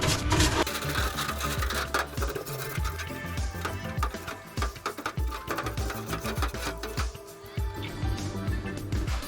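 A carbon clutch part gets scrubbed in a shop parts washer, producing a dense, steady churning and rubbing noise close by without pause. No one talks.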